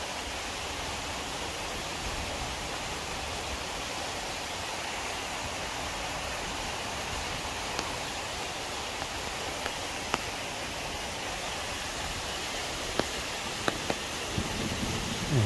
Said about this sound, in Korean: 칠연폭포.